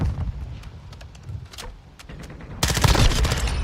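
Bursts of automatic gunfire in Call of Duty: Modern Warfare II, with scattered shots at first and then a dense, loud volley of rapid fire near the end, sharp and close.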